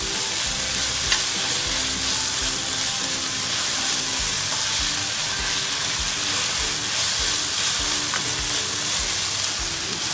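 Prawn masala with salt sautéing in a pan, a dense continuous sizzle with regular scraping strokes of stirring roughly every half second, close and loud, no voices.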